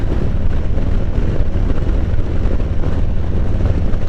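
Strong gusting wind buffets a rider on a Harley Davidson Road Glide at about 40 mph, a loud, constant low roar and rumble pressing on the microphone throughout, with no talk.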